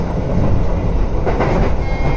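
A Keikyu express train running through Samezu station while overtaking a local train, a loud, close, steady rumble of wheels and carriages with faint rhythmic clatter throughout.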